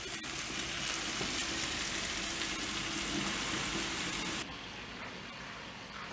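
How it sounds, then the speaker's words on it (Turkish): Butter melting in a pan for homemade İskender döner, a steady soft sizzle and crackle throughout that drops slightly quieter near the end, with no talking. "Tereyağımızı erittik."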